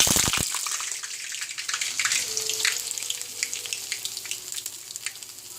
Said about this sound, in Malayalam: ഇത് ഇതുപോലെ എല്ലാതും ഗോൾഡൻ ബ്രൗൺ ആവുന്ന വരെ നമ്മളിത് മൊരിച്ചെടുക്കണം